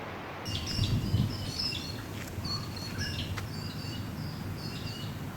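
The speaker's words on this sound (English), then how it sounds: "these pied butcher birds love to sit in the frangipani trees" Pied butcherbirds in frangipani trees in Broome, coastal Australia: several clear, fluting call phrases repeating over a steady outdoor background hum.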